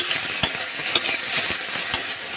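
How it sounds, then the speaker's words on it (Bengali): Jujube fruits (kul) being stirred in a pan over a lowered gas flame for a sour chutney, giving steady scraping with soft sizzling and a few sharp utensil knocks about every half second. "এবার একটু কুলগুলো নেড়ে দেব।"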